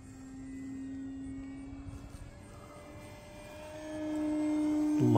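An E-flite Extra 300 radio-controlled aerobatic airplane flying knife-edge passes, its electric motor a steady thin whine that shifts in pitch as it moves, growing louder and closer toward the end, with no talking.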